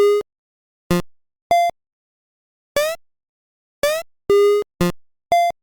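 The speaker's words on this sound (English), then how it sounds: "I added some sound effects using VFXR" Retro electronic game sound effects made with VFXR for a Nokia phone game: about eight short synthetic beeps and chirps, some steady tones and some rising sweeps, separated by silence in an irregular sequence.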